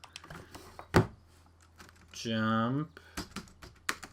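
Clicks of a computer keyboard being typed on during game coding, a scatter of close, sharp taps around a spoken word, with talking throughout.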